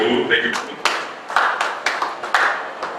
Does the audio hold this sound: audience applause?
yes